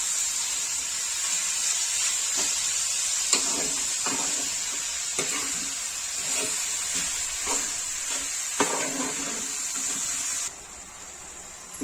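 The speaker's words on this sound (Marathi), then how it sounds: "गूळ पूर्ण विरघळायला पाहिजे त्यामध्ये, म्हणून व्यवस्थित मिक्स करायचं आहे." Jaggery melting in a hot pan for ukadiche modak filling, stirred with a spoon; a steady sizzling hiss throughout with soft, repeated scraping strokes of the utensil, close and continuous, no talking.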